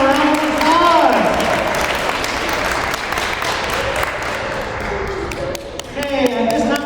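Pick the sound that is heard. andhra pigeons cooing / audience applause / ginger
audience applause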